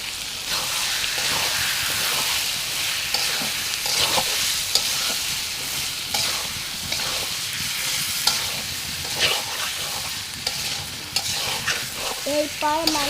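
Duck meat frying in a pan with salt and turmeric, giving a loud, continuous close sizzle with repeated stirring scrapes throughout and no talking.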